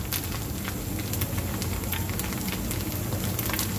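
Appe fry in oil in a pan with a constant dense crackling sizzle, close and loud, dotted with sharp pops and spits. No one speaks.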